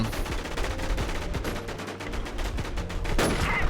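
Rapid bursts of gunfire in the online shooter Warz, dense overlapping shots crackling steadily through the stretch with no pause, loud and close.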